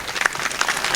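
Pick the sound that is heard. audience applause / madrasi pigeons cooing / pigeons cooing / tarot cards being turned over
audience applause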